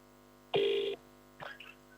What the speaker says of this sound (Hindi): नहीं, रिंग हो रहा